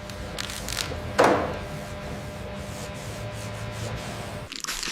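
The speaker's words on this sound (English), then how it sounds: "Wet sanding." Wet sanding on a Tesla Model Y body panel makes a steady, close, soft rubbing rasp with one sharper scuff stroke near the start, heard alone without talk.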